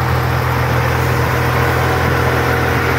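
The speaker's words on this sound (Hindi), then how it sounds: "ये जनाब इसका ट्रैक्टर चल रहा है" A tractor engine runs steadily while spraying a guava and mango orchard, a loud continuous droning hum with a mechanical hiss, close and unbroken, with no talking.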